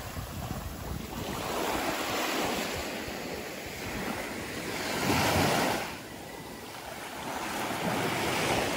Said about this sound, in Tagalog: Naglakad-lakad ako hanggang makarating sa dalampasigan.